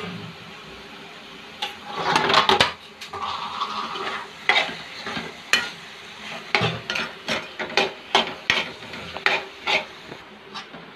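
Turmeric sabzi is stirred and roasted in a pan, with a spoon scraping and clinking in a quick, uneven rhythm over a soft sizzle, loud and close.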